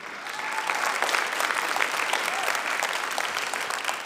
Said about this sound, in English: Please give another round of applause to Major Young.